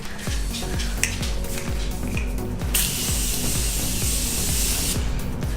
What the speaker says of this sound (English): we can't forget our Morphe setting spray